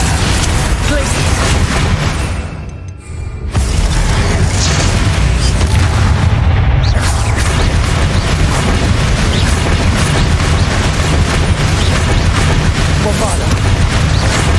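Bombarda and Confringo spells in Hogwarts Legacy combat set off heavy booming explosions, a dense, loud, continuous rumble with a short dip, while a voice talks over the blasts.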